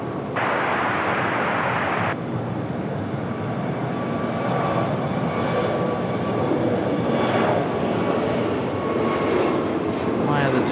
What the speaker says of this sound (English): this one again a brand new aircraft, delivered in April